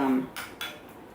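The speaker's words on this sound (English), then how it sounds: "I'm trying just to use the one clean spoon in the bottle of fruit mince" A metal spoon scraping and clinking inside a jar of fruit mince, two quick close scoops in a quiet kitchen.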